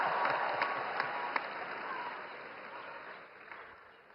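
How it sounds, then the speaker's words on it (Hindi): Audience applauding at the Art of Living 45th anniversary celebration, a steady wash of clapping from a large crowd that swells early and then slowly thins over a few seconds. "जैसे जैसे समय आता जाए ताली बजाते जाइए।"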